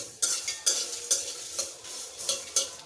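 Spices for jhal muri masala are dry-roasted in a pan and stirred in steady scrapes roughly every half second, each stroke giving a soft gritty rustle over a faint sizzle, close and alone.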